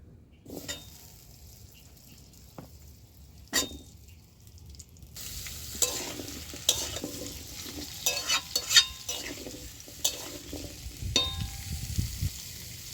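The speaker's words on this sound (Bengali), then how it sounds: "তেলটা গরম হয়ে গেছে, এবার আলুগুলো দিয়ে প্রথমে ভেজে নিচ্ছি।" Potatoes drop into hot oil in a wok and break into a loud, crackling sizzle midway, with stirring scrapes and occasional clanks of the utensil against the pan.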